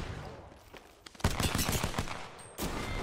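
Rapid shotgun blasts in the Apex Legends battle royale, a dense run of loud, sharp reports packed together mid-clip, with another burst near the end over game ambience.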